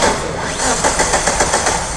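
A car engine running backwards after starting the wrong way, a rough, loud mechanical drone with faint rhythmic pulsing, close by.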